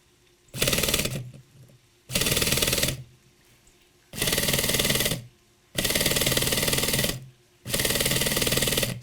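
A StirlingKit SEMTO model engine is cranked over by an electric starter in five loud, rattling bursts of roughly a second each, separated by short pauses, close by and without voices.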